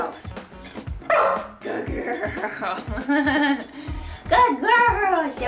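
Pet dogs perform tricks and bark on command, sharp repeated barks and yips scattered across the clip, close and loud, with people laughing and talking between them.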